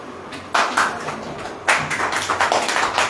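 Scattered hand clapping from a church congregation, a few loose claps at first, then a brief burst of quicker, uneven claps that fades out.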